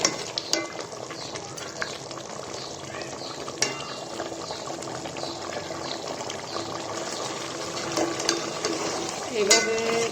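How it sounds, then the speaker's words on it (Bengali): Pieces of desi chicken being stir-fried in a pan, a steady close sizzle with bubbling liquid and occasional spoon clinks, running continuously with little speech over it. "মুরগিগুলো কষাতে কষাতে এগুলো থেকে পানি বের হবে"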